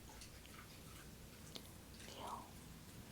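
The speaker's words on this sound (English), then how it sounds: "He was chewing on like a little piece of wood." A little corgi puppy gnaws on a small piece of wood indoors, giving soft, irregular crunches and clicks that are close but very quiet.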